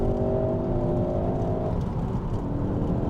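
A Mk3 Ford Focus ST pulls hard under acceleration, its meaty induction growl rising as a steady loud drone with a tonal whine that shifts partway through, heard from inside the car with no talking.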